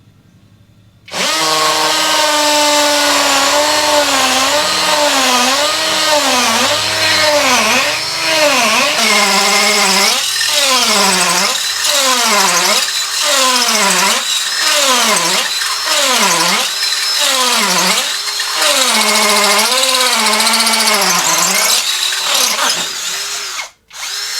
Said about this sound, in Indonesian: Nah ini kita masuk ke mode hammer, langsung kita coba saja ini di speed 2 ya.